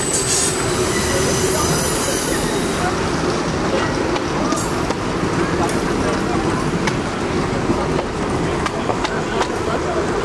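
Loud, constant rumble of a train moving through a Copenhagen station, on the line between Kastrup Airport and Central Station, with squealing wheels and metallic rattles throughout.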